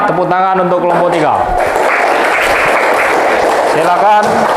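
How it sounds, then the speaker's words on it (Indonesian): Classroom applause for a student group after their presentation, a steady dense patter of clapping from many hands filling the middle of the clip, with a teacher's voice speaking before and after it. "tepuk tangan untuk kelompok 3"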